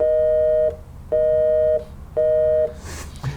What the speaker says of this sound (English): then that's 480 plus 620 hertz sine waves mixed together